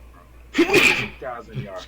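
One loud, sudden sneeze from a man, with talk before and after it.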